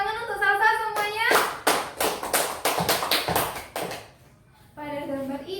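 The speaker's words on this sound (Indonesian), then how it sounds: "Tepuk tangan untuk Salsa semuanya." Children in a classroom clap for their classmate Salsa in a short run of sharp, uneven claps that lasts a few seconds, with a voice heard before and after.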